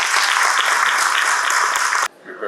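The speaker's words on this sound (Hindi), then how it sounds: "तालियों की गड़गड़ाहट थोड़ी जोर से हो सकती है" A crowd at the opening of MSME Expo 2023 bursts into loud, dense applause that carries on for about two seconds, then stops abruptly.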